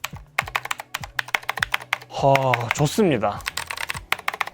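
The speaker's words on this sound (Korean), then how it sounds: "기계식 키보드는 그 청축의 철컥거리는 느낌이 좋기 때문에 굉장히 마음에 듭니다" Clicky blue-switch mechanical keyboard, a Keychron K8 Retro, typed on in quick, close, crisp strokes throughout, with someone speaking briefly over the keys partway through.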